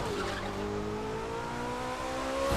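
A racing car in The Crew 2 holds a steady loud engine drone through a right turn, with faint tyre squeal rising under the rising engine tone, alone without talk.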